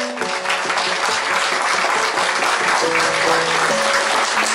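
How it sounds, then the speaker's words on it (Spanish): Loud, continuous applause at a collective wedding ceremony in Apazapan, with sustained musical tones running beneath the clapping throughout. "para que pida un fuerte aplauso."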